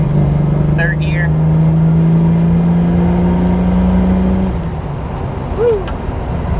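A Jeep TJ with a 4.6 stroker engine runs close and loud, its deep drone holding steady for several seconds before dropping off sharply, with a brief whine near the end.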